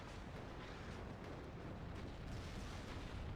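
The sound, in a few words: rocket strike explosions in video game WARNO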